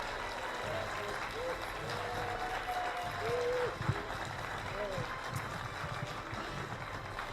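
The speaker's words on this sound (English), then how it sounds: "Give him a big round of applause." Audience at a motivational speaking event applauds in a steady wash of clapping, with a few whistles and a brief sharp knock partway through, while a voice carries over the crowd.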